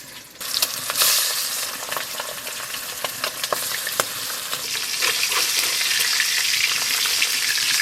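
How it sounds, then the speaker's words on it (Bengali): Pieces of pangasius fish fry in hot oil, giving a loud, steady sizzle scattered with sharp crackles and pops throughout, with no voices. "এইভাবে বাকি মাছগুলো ভেজে নেবো।"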